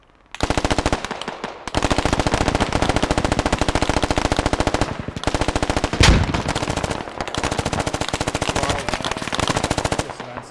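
Sustained automatic machine gun fire in the video game Squad, heard as long, rapid bursts of closely spaced loud shots from close range. There is a short pause near the start and another midway, and one sharper blast stands out.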